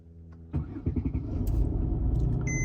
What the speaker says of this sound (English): Now, I'll go ahead and turn my car on.